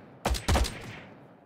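A rifle firing in a video game, two loud close bursts of shots in quick succession, each trailing off in a short echoing tail.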